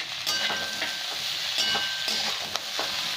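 Capsicum, onion and spring onion fry for street-style chowmein in a hot pan, a steady close sizzle broken by repeated scraping stir strokes, with no voices.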